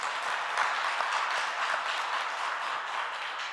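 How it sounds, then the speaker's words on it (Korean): A church congregation applauds the worship leaders with a continuous, even wash of many hands clapping, moderately quiet and steady throughout without talk. "박수 한번 쳐드려요"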